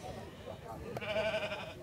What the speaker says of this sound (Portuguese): aqui a gente tem uns carneiros bonitos. Tem uma ovelha parida